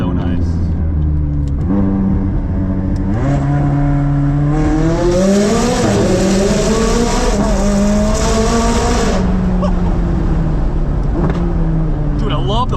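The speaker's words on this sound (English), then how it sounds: "Dude, I love the pops on downshift." McLaren supercar fitted with an aftermarket exhaust, engine note rising and falling through gear changes with crackling pops on downshifts, loud and close from inside the car, with people talking over it.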